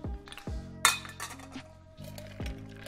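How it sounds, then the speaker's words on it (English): Ice cubes dropping into a highball glass for an AMF cocktail, a few sharp glassy clinks and rattles in separate bursts, close and fairly loud, with no talking. "So fill your highball glass with ice,"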